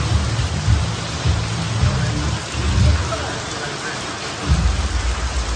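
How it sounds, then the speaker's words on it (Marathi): Heavy monsoon rain pours steadily as a broad, continuous hiss, with low rumbling gusts swelling and fading beneath it. "इथे जोराला पाऊस लागले"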